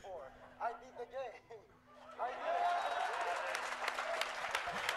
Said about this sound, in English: Listen to the crowd. The crowd goes wild.